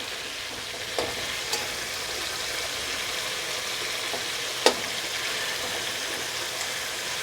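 Tomatoes frying in hot oil give a steady, soft sizzle throughout, with a few faint clicks of a stirring spoon on the pan, close by and moderately quiet, no voices.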